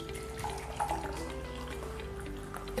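Kangen water is poured into a glass holding oil: a steady, close trickle and splash of liquid that runs for a few seconds without any speech over it.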